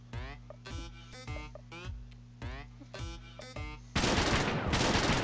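Video game gunfire, mostly a burst of heavy, continuous shooting that floods the final second or so, after several short bursts of game sounds and chatter. Loud and close.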